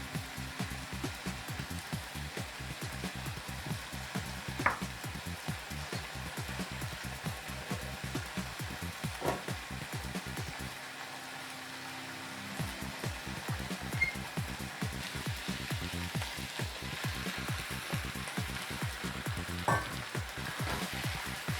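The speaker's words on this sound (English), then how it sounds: "we'll give that a quick stir" Dal simmering and sizzling in a pan while being stirred, a steady dense crackle and bubble throughout with light scraping, briefly quieter midway, close and alone with no talk.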